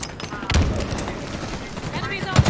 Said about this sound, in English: Get back, plasma grenades!